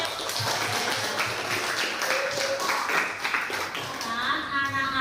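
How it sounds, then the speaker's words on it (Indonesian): A classroom of students claps for a classmate in a short burst of scattered, uneven applause, with children's voices mixed in. "Tepuk tangan untuk Adbe."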